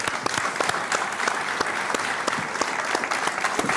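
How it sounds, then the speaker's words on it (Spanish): Audience applause greets the guests of a Canary Islands winery interview on a television set, a steady dense wash of clapping hands sustained throughout at close range. "Un aplauso."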